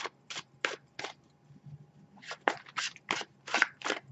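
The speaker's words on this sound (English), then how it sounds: "You can listen to the sound of me shuffling the cards." Crisp bursts of tarot cards being shuffled, four quick riffles, a short pause, then a faster run of six more, close and clear.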